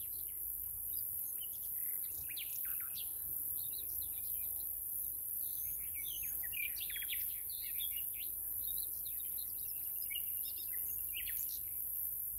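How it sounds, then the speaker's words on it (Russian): Birds chirp and sing in the early morning near a mud lake on a village street, many faint overlapping calls scattered through the clip over steady hiss and a possible insect drone. "И вот вы сможете тоже каждое утро ранее слушать птиц,"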